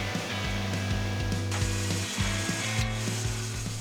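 A machine shaping a silver sheet into a kettle in a silversmith's workshop, giving off rhythmic, regular mechanical clicks and ratcheting knocks over a steady whirring hum.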